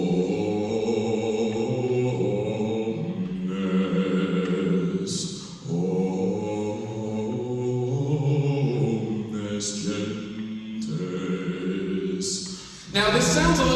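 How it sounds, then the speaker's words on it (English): Unaccompanied voices sing a slow, sustained Gregorian chant in long held tones, phrases separated by brief breaths, steady and reverberant. "a cappella music emerges for the first time, and it's known as Gregorian chant"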